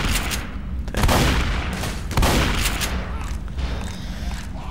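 Sustained gunfire in Left 4 Dead 2, loud close bursts of shots with two heavier volleys, continuing over the whole stretch amid game noise.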